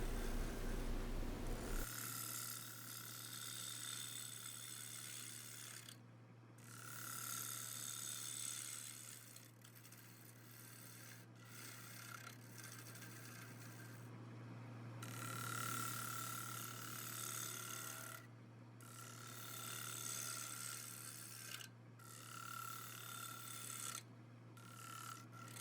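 A wood lathe turning a maple bowl as a tool takes off shavings, a continuous scraping, rasping cut over a steady motor hum, with brief pauses and changes in texture as the tool moves.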